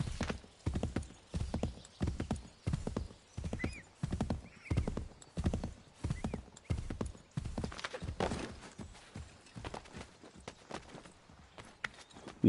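A horse in the video game Assassin's Creed 3 gallops with rapid, evenly spaced rhythmic hoof clip-clops that run steadily and close, with a brief whinny in the mix.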